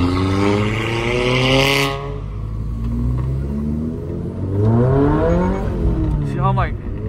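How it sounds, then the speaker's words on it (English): A Toyota GR86 with a tuned downpipe burbles and revs while driving at night, with engine pitch rising and falling across two pulls, heard loud from inside the cabin as people talk. "Downpipe makes it burble like that?"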